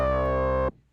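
A synthesizer laser-harp patch, its filter driven by an envelope, holds one bright, buzzy, steady tone for under a second before it cuts off abruptly into near silence.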